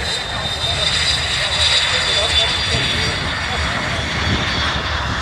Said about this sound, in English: Last of the Hunters just rolling out.